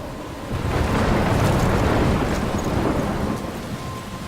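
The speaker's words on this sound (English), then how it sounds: "I'm trapped in a storm?" A storm in the video game Life is Strange: roaring wind, heavy rain and crashing waves surge into a loud, dense wash that swells and slowly eases, with no voices.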